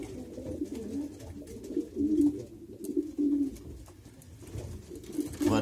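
Van de Pool racing pigeons in a loft box coo in a low, steady murmur, with several overlapping throaty calls pulsing close by throughout.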